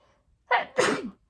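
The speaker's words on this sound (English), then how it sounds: "I have to sneeze, by the way." A single sharp sneeze, a quick inhale followed by a forceful burst, close and clear with nothing else around it.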